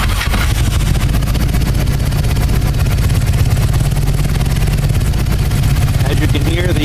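Harley Davidson motorcycle with Magneti Marelli fuel injection starting up cold, the engine catching and settling into a loud, close, rapid lumpy idle that continues steadily.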